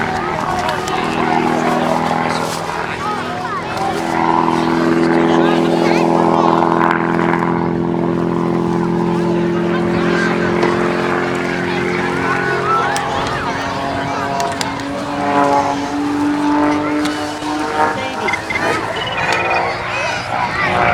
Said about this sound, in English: This US-built aerobatic aircraft designed for unlimited competition flying.